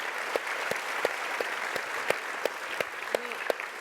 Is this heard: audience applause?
yes